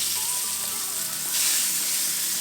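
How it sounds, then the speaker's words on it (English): Chicken breast pieces frying over medium heat in olive oil and butter, giving a steady, close, loud sizzle that swells slightly partway through, with no talk. "we're on medium heat. Got some olive oil and butter in here as we're cooking these chicken breast pieces"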